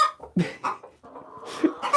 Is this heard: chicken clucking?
yes